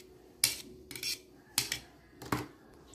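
Arugula is tossed with utensils in a bowl, with four or five sharp scraping clinks of metal against the dish at an uneven rhythm, close and fairly quiet, with no voices.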